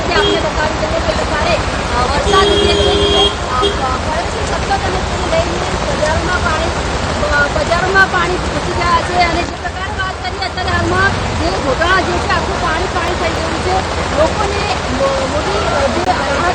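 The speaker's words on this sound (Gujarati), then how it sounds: "નીચાવાળા વિસ્તારમાં પાણી ભરાતા કાચા મકાનોમાં ઘર વખરી પણ તણાવા લાગી" Floodwater after heavy monsoon rain in low-lying areas of Jotana, Mehsana, rushes steadily in a loud continuous roar, with voices of a crowd mixed in underneath throughout.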